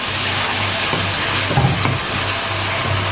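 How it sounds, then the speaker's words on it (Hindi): Steady oil sizzle and crackle of ginger-garlic paste frying in a pan for mutton keema, with occasional stirring scrapes, close and continuous. "अब एक खाने का चम्मच अदरक लहसुन का पेस्ट वो इसमें ऐड करेंगे। इसको हल्का सा फ्राई करेंगे।"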